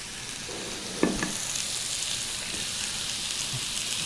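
Pork chops seasoned with soy sauce sizzle in an iron skillet, a steady close hiss with a brief clank near the start and no voices.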